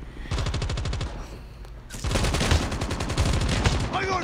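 Rapid automatic gunfire rattles in two long, loud bursts in a video game, dense repeated shots with a short pause between them.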